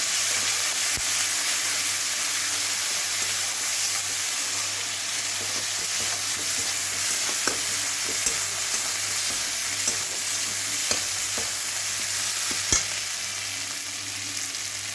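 Cumin, ginger and chili pastes fry and are stirred together in a pan with a loud, continuous close sizzle and hiss, broken by occasional clicks of the stirring utensil.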